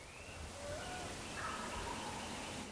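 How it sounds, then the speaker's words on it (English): A wild spring gobbler on public land gobbling from a distance, faint and rolling beneath steady outdoor background noise. "This turkey's standing out there gobbling."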